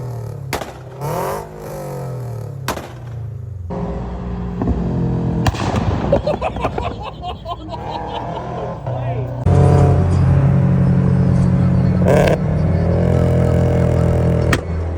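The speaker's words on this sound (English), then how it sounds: "pops and bangs. Pops and bangs, the massive flames." A tuned car's exhaust crackles with pops and bangs as the engine revs and burbles, loud and close, with a person talking over much of it.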